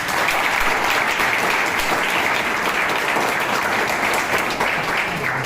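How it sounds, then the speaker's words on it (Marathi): An audience claps for Sagar saheb at an Independence Day gathering of a residential de-addiction centre: sustained, dense, energetic applause from many hands, loud and even throughout. "सागर साहेबांसाठी जर जोरदार एवढ्या टाळ्या."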